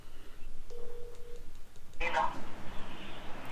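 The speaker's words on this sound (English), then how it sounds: "All right, so I got the phone number. Let's go ahead and give them a call." A telephone gives a short steady dialing tone lasting under a second as a call is placed, followed by a sudden louder burst of sound; muffled background noise runs throughout.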